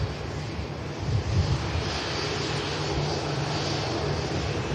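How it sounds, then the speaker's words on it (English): A Boeing 787 Dreamliner at Manchester Airport, a steady, moderately loud jet engine rush with wind-like noise and a low rumble, heard alone with no talk. "To a Dreamliner heading out to India."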